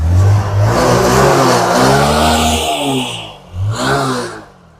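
A used motorcycle at an old-bike fair in Terokhada, Khulna, self-starts and revs loudly up close, the engine note rising and falling in two strong bursts before settling and fading out.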